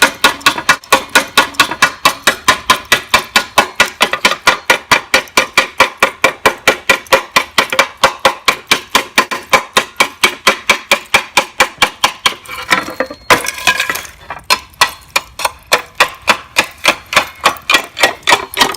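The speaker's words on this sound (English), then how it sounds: "there's already one nail hole, but I need another, so usually I just pop one in like that" A hammer taps a nail hole into roofing slate in quick, evenly spaced strikes, loud and close, then a short scraping burst before the steady tapping picks up again.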